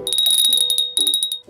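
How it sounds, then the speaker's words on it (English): A bell rings with a bright, sustained metallic tone, struck in a quick series of close strokes that then fade out; no voices. "Just then, a bell rang."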